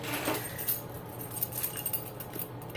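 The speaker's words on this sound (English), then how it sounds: "Where's my keys?" A bunch of keys jangles and clinks in a busy, scratchy flurry while someone searches for them during an unboxing, with small metallic taps scattered over a couple of seconds.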